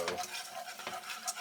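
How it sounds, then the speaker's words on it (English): Gluten-free roux being stirred in a pan with a utensil, a short burst of scraping and soft sizzle, close and fairly quiet, no talking. "now we're going to stir this around. We're making a roux, and we want the flour taste to be cooked out of here."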